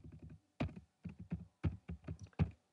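Close, quiet typing on a computer keyboard while entering numbers for a Java program, with about a dozen distinct key presses in uneven bursts and short pauses between them.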